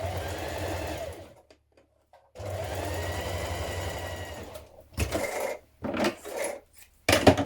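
A sewing machine stitches a long coat seam in two sustained runs with a pause between, followed by several short bursts of stitching, close and steady.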